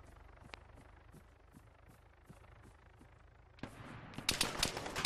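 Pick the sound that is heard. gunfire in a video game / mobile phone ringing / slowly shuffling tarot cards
gunfire in a video game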